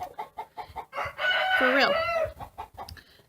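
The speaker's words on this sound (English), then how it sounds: "See, I have too many roosters. Can you hear it?" Roosters crowing loudly among clucking chickens in a backyard flock, with one long rising-and-falling crow dominating the middle and shorter clucks before and after, as a person speaks briefly.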